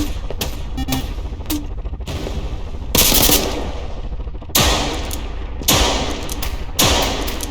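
Video game gunfire from several different weapons: loud bursts of rapid automatic fire alternate with heavier single booming shots and thuds, all close and forceful with no talk over them.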